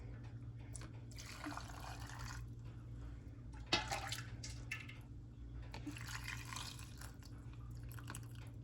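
Hot brine pours into canning jars of dilly beans in two gentle, faint trickles separated by a soft clink, over a steady low hum in a kitchen.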